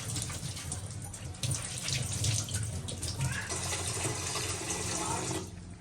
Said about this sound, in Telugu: దబరాలో నీళ్లు తీసుకొని